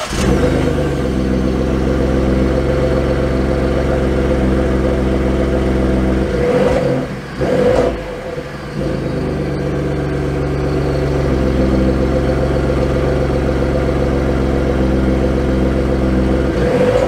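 A 2021 Ford F-150 Tremor pickup truck engine runs at a steady, loud idle close by, with a brief dip and surge midway before settling back into its even rumble; no one speaks.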